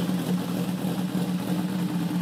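A Honda CB 750 motorcycle from 1969–1978, rated at 68 horsepower, holds a loud, even, throbbing idle close by, heard alone without talk.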